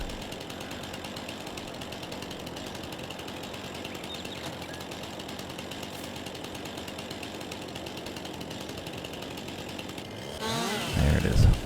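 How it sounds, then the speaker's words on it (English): A chainsaw runs continuously in a forestry video game while trees are being cut, a loud, close, steady buzzing drone that roughens near the end. "What button is it to get the chainsaw to work again?"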